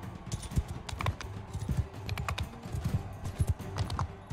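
Horse hooves galloping in the Bannerlord video game, a rapid irregular drumming of hoofbeats, moderately faint and continuous, with small clattering accents throughout.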